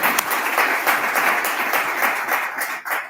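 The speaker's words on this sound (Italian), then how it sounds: "penso che l'applauso vada fatto a Cesare" An audience at a memorial event for victims of the mafia applauds in a sustained, dense round of clapping that fills the hall, fairly loud and continuous.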